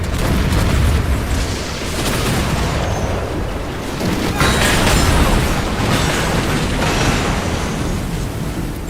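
Cannon fire and powder keg explosions in a naval battle in the video game Assassin's Creed IV Black Flag, dense rumbling booms and blasts overlapping continuously at high volume with no pause.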